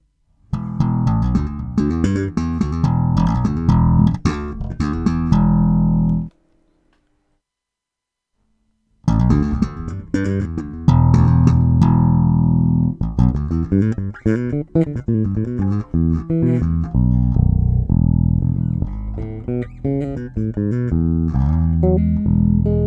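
A Sire M2 electric bass with default parallel pickup wiring plays a busy run of notes, full and warm with a slight growl, pausing briefly for a few seconds before the riff resumes.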